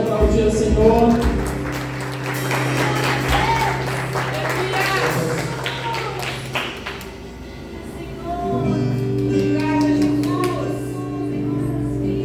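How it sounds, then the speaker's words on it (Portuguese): A church congregation applauds during a worship service, steady clapping spread across the whole stretch at moderate loudness, mixed with sustained music or organ tones and some talk or voices underneath. "Você pode aplaudir o Senhor."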